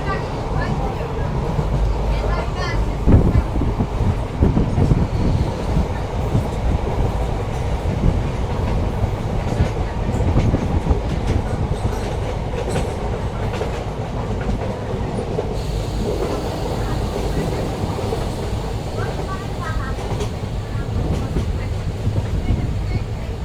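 An Azimganj–Katwa passenger train rides on a winter morning, heard from inside the carriage as a loud, continuous rumble with rhythmic wheel clatter and occasional squeal throughout.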